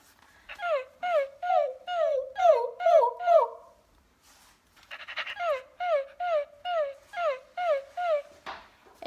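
A squeaky toy pug makes a run of rhythmic whimpering squeals, pauses briefly, then squeals again in another steady series, close and fairly loud.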